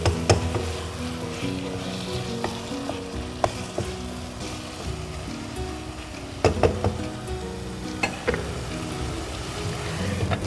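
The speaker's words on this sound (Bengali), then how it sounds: "একটু হালকা নেড়ে দেব" Beef dum biryani being gently stirred in a pot over low heat, a continuous soft sizzle with scattered scraping knocks of the spoon against the pot, no voices.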